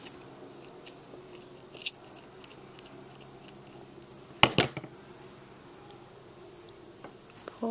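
Scissors snip crochet yarn during work on toddler boots: a sharp double cut stands out midway among faint clicks and light handling noises in a quiet room.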